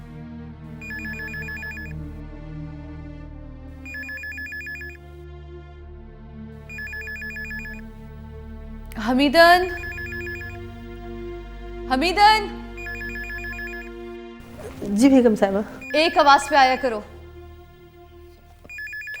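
A telephone rings in regular repeating bursts throughout a household scene, moderately loud and near, while a woman and a servant exchange calls and replies over it.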